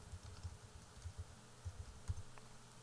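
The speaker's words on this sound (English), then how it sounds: "So I'll type 2009 Total Training." Text is typed on a computer keyboard in a few short bursts of soft, close keystrokes, quiet and sparse with no voices.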